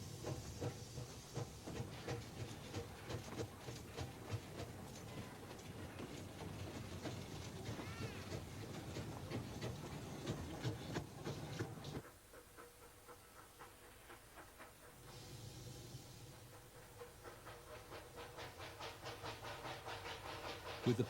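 Chucker's Kraal, a steam locomotive on the South Tynedale Railway, chuffs steadily with hissing steam and rolling wheel noise, fading briefly before building again.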